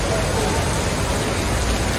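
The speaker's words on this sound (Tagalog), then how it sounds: "Lakas ang ulan, no?" Heavy rain pours down on a street in Singapore, a dense, even hiss that stays loud and unbroken throughout.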